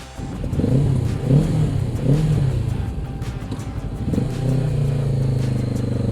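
A Kawasaki Z650RS motorcycle engine revs in several short rising pulses during a ride, then holds a steady drone, loud and close with no talk.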